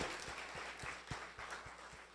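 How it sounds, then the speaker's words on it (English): Audience applause for entrepreneurs at an event, a faint, dense patter of many hands clapping from a distance, with a few soft thumps scattered through it. "Give yourselves a round of applause and keep pushing."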